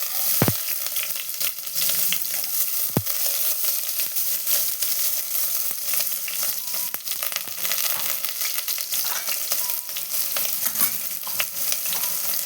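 Onion sautéing with salt in a pan for a green peas kurma, a steady close crackling sizzle throughout with a couple of sharp knocks near the start and no talk.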